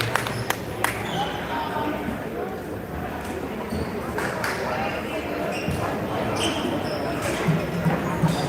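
Makeshift drums made from 5-gallon plastic pails are beaten with sticks in a crowd at a school sports match, producing sharp, irregular thumps over a steady roar of crowd noise and talk.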